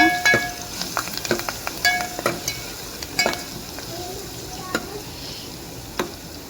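Crushed garlic and cumin sizzle in oil for a simple tomato rasam, a soft steady fry close by with sharp scattered clinks and taps of a spoon against the pan.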